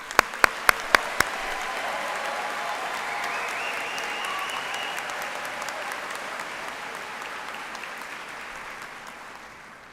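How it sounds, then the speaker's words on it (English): A convocation audience applauds incoming medical students at a white coat ceremony, a few sharp early claps swelling into dense sustained clapping from a large crowd that slowly fades toward the end. "join me, audience, in announcing our 332 incoming students with a round of applause"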